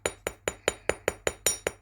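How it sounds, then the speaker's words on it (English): A hammer strikes metal wire repeatedly to flatten it for earrings, about nine sharp, evenly spaced taps in quick rhythm, close and clear with no talking. "So I'm just going to hammer the sides,"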